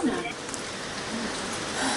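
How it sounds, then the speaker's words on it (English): Steady rain falls in the mountains on the trail to Annapurna Base Camp, a constant even hiss of drops that holds at one level the whole time, with no speech over it. "even it's still a bit rainy"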